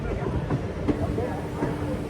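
Kollam Express, an ICF-rake train, rumbling at Chennai Egmore station, a steady low mechanical drone with faint clatter, heard with some voice activity.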